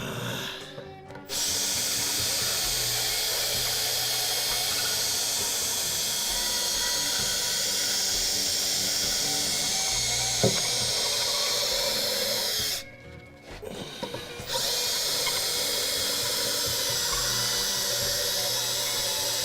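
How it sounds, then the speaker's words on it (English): A power sander runs steadily during a mandolin build, giving a continuous loud whirring hiss that stops briefly twice before starting again, with no talking over it. "And before you know it, you got a new sander."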